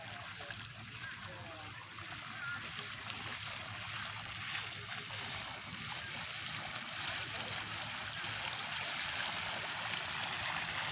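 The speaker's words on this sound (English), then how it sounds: "that little Vaquita motor really moves, and it'll last for hours" A small Vaquita electric motor pushes a stand-up paddleboard fitted with an outrigger stabilizer across open water, a steady low hum under continuous splashing and trickling water close by, with no pauses.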